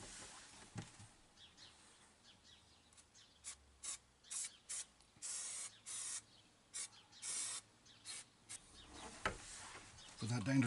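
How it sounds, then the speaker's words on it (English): Spray glue goes onto carpet for a camper roof panel in a quiet indoor space, with a run of short hissing bursts, about a dozen in an irregular rhythm, each close and crisp, and brief rustles between them. "Spray the carpet first."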